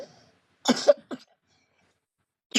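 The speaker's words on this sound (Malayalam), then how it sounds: "ഈ ചുമയാണല്ലോടാ." Two or three sharp, wet coughs sound close up in quick succession, followed by silence and another cough starting at the very end.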